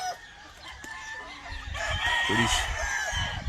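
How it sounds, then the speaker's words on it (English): Gamefowl chickens on a farm cluck in scattered calls while a rooster crows in a drawn-out call, close and moderately loud, with someone briefly talking. "Pretty good chickens."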